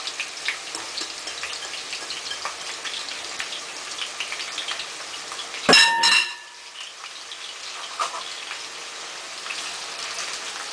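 Onion frying in a quarter cup of extra virgin olive oil over medium heat, a steady close crackling sizzle with one brief louder clatter partway through, no voices.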